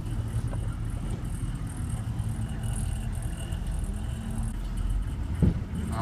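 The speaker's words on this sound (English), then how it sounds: "Listening to the turbo, but there's something the matter with it." A diesel snow plow truck with a faulty turbo idles close by, a steady low engine rumble with a faint high whine above it, continuous and unbroken, with no voices.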